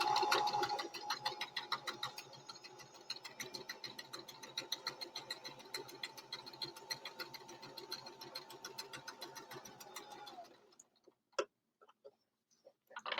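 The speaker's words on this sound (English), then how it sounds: "then you're going to sew along the bottom edge of the mask and then along the top edge of the" A sewing machine stitches along the edges of a fabric face mask with rapid, even needle ticking at close range for about ten seconds. The machine then stops, leaving a few scattered handling clicks in near silence.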